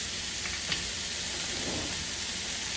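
Low carb hamburger patty frying in a pan, a steady broadband sizzle at moderate level, continuous with no talk.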